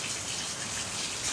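Rain falling steadily outdoors, a dense, even hiss of drops with no pauses, fairly quiet and unaccompanied by voices.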